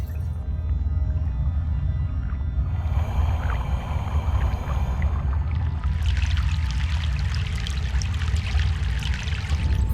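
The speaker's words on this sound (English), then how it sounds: "The sixth crossing of the river." Flowing, splashing water from a river crossing in the video game Broken Sword: The Sleeping Dragon, a steady close wash that brightens and grows busier partway through, with no talking.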